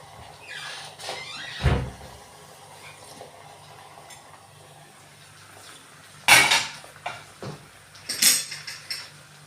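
A large metal lid is set onto a cooking pot in a home kitchen, giving a few separate clanks and clinks against a quiet background.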